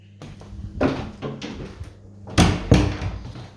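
Loose-handled interior door in a move-in property opened and closed, a few clunks and rattles with a firmer latch thud near the end, close and fairly loud with no talk.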